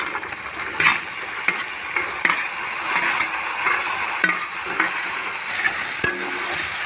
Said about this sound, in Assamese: এইখিনি এনেকৈ ভালকৈ লাৰি থাকিব।